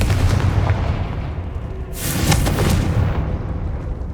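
A Confringo fire spell in Hogwarts Legacy bursts with a loud, close booming blast about halfway through, rising over a steady rumbling game background that continues to the end.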